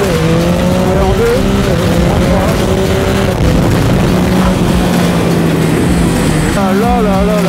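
Yamaha MT09 motorcycle with automatic gearbox revving hard under acceleration, engine pitch climbing and dropping through several gear changes, close and loud with wind noise; someone talks over it.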